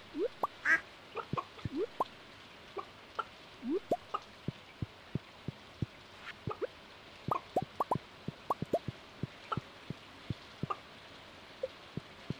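Cartoonish farm-animal sound effects from chickens in the Stardew Valley video game: a steady scatter of short, soft plops and clucky chirps, some overlapping, over faint ambient background with no talking.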